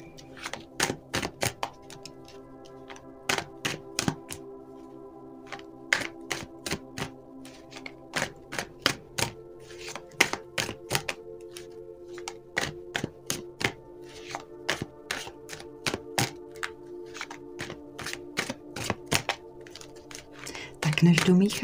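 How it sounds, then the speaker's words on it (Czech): Tarot cards shuffled by hand produce a steady series of sharp, close clicks and slaps, with a tonal hum underneath throughout. "Než domíchám karty"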